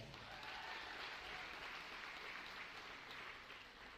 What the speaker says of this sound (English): One more round of applause for our scholarship student athletes